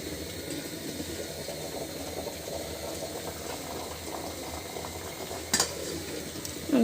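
Steady low bubbling of food boiling in a pot, with occasional clinks of a spoon or cookware near the end, heard close and continuous without talk.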